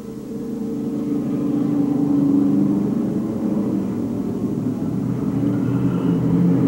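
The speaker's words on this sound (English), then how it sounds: "First 4 cars all running nose to tail in this qualifier" Pro Stock race cars running nose to tail in an eight-lap qualifier roar past as a sustained, swelling engine rumble, loud and continuous, with no talk over it.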